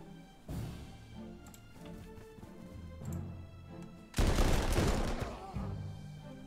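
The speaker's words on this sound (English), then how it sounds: "See, we have artillery support" Artillery fire in the strategy video game Panzer Corps 2, set in the Spanish Civil War at Madrid: scattered cracks and thuds, then a loud, dense roaring barrage midway through that fades into lower rumbling.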